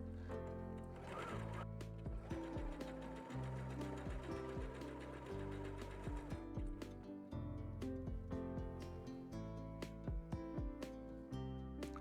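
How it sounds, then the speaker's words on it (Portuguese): A domestic sewing machine stitches kimono shoulder seams together, its motor whirring in repeated bursts with short pauses and a brief reverse backstitch, close and clear with no talking over it. "Agora eu vou unir pelos ombros. Ajeito e costuro. Faço um retrocesso."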